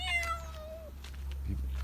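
A single close cat meow with a gliding pitch, followed by quiet background hum and a faint soft thump.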